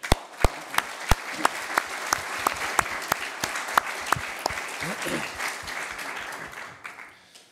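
Sparse, evenly spaced claps ring out in a conference hall during an employment colloquium opening, each sharp and fairly close, with a softer wash of applause behind them that fades out near the end.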